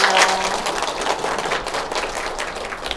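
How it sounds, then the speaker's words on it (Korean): A dense, steady wash of audience applause fills a hospital health lecture on aortic disease, loud and close for about three seconds with no talking over it. "한 번 더 박수 부탁드리겠습니다"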